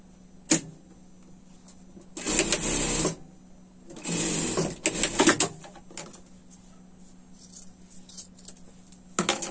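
A sewing machine stitches a seam on a winter pet dress in two bursts of rapid running of about a second each, with a later stretch of shorter stop-start stitching and light handling clicks between runs.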